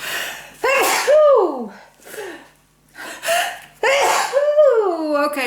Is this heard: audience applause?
no